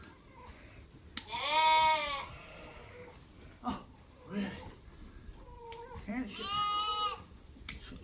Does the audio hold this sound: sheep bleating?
yes